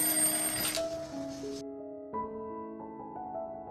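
A bright electronic alarm clock ringing in a quiet morning bedroom, a repeating run of tonal chiming notes that changes pitch in steps, clear and fairly close, with a brief pause partway through.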